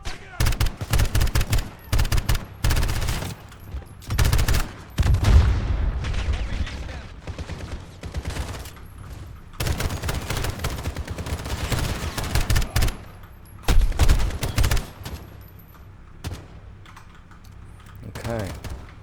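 Rapid automatic gunfire bursts in a video game, loud and repeated across the scene, with a player talking over the shooting.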